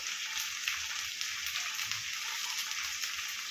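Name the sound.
okra frying in oil with ginger paste and spices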